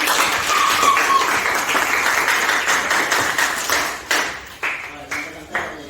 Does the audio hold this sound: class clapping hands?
yes